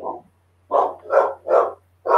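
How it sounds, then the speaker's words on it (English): Several dogs bark in loud, close bursts, four or five rough woofs spaced about half a second apart with short silent gaps, over a faint steady low hum. "sorry about the dogs. There's something stirring them up."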